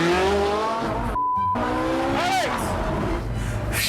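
A Ferrari engine revs hard during a launch, its pitch sweeping upward with tire squeal, then cuts briefly before another rising rev. The sound is loud and close, with voices talking over it inside the car.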